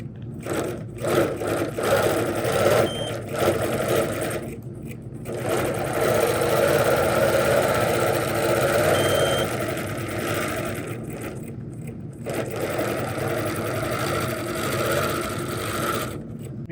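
Sewing machine running steadily while quilting a leaf motif with a ruler, a continuous close, loud mechanical whir broken by a few brief pauses as the stitching stops and restarts.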